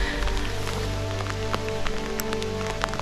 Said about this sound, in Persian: بارون شدید شد